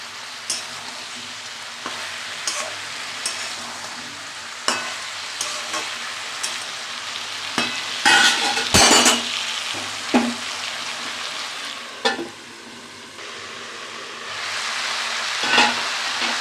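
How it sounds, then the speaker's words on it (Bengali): Mixed vegetables stir-fried in a pan, a constant sizzle punctuated by repeated sharp clinks and scrapes of a spatula against the pan, close up, with a louder clatter of stirring midway and no talking. "ভালো করে দেখো কি সুন্দর কষানো হচ্ছে।"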